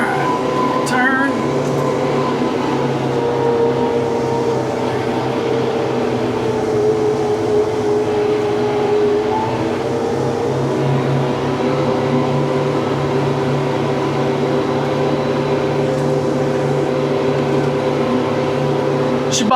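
A tractor-driven flail mower churning through thick, six-foot-tall weeds drones loudly and steadily, its engine note sagging briefly as it bogs down in a turn before holding even again.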